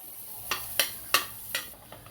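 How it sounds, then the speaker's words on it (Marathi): Onion is dropped into a pan on a gas stove and fries, with several sharp clinks and scrapes of a spatula against the pan at irregular intervals over a quiet background sizzle. "गॅसवर कांदा टाकून घेते"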